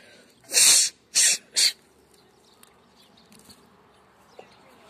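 Three sharp, close sneezes come in quick succession, the first longest, after a thread got into the nose; quiet rustling and faint sounds follow.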